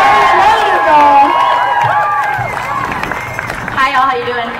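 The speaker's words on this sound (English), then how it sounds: "Can we get a round of applause for her, you guys?" A crowd at an outdoor youth climate strike in the SF Bay Area cheers and whoops, with some clapping, loud at first and then tapering off as a voice comes in near the end.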